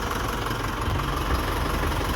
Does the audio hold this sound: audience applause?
no